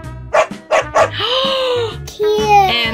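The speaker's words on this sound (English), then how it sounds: "And what does puppy say? Ruff, ruff." A puppy barks close by in a run of short, sharp yips, three quick barks followed by a longer whining howl and two more yelps, loud and clear.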